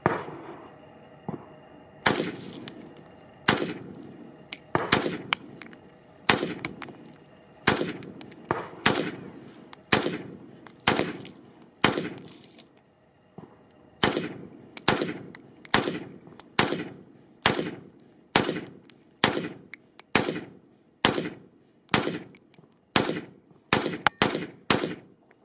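An AK-47 rifle fires about two dozen single shots at a fairly even pace, each sharp crack close and loud and followed by a decaying echo, with the rhythm quickening toward the end.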